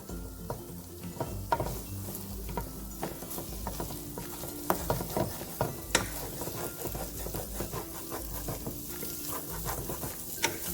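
Canned corned beef hash frying in a skillet as it crisps, a low, continuous sizzle and crackle with scattered spatula taps and scrapes throughout.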